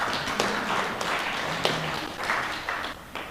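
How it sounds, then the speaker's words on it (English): An audience at an entrepreneurship bootcamp pitching event gives Dr. Sarah a round of applause, with steady, moderately loud clapping from a crowd that continues without a break. "Round of claps for Dr."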